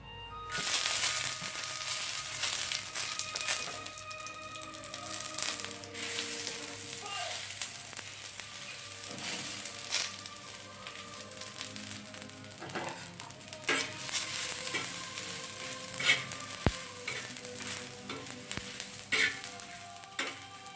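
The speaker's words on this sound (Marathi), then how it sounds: "हे पूर्ण एकत्र भाजून घेते मी" Black masala spices roast in a pan for a chicken dish, a continuous dry sizzle with repeated scraping stirs and occasional utensil clinks throughout, fairly close, no talking.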